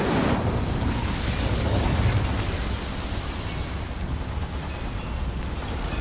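A fire spell cast in a Hogwarts video game, heard as a loud, dense burst of roaring flame that fills the whole clip and eases off only slightly partway through.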